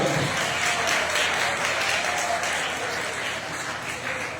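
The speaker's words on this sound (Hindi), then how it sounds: "बच्चों जोरदार तालियों से स्वागत है" Applause from children and guests welcoming an arriving dignitary at a district-level wushu competition in a judo hall, a dense steady wash of clapping throughout, loud and sustained, with faint voices mixed in.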